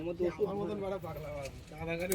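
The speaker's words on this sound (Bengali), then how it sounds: "দেখুন বন্ধুরা ডাক করছে খুব গরম পায়রা" Soft, throaty racing pigeon coos rumble close by, repeating in low rolling phrases with a faint murmur of other sounds around them.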